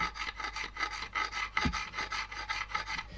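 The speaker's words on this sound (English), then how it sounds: "if you see that the file is making more marks on the casing than on the marks you've made with the chisel" A metal file rasps across an engine mount casing in a steady rhythm of about ten back-and-forth strokes, close and fairly quiet, with one brief knock midway.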